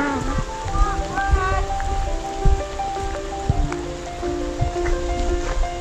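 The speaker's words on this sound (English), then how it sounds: "Yay, rain!" Rain patters and drips on a surface nearby on a hike at Angel Rocks, Alaska, while people talk over it, with scattered louder drops.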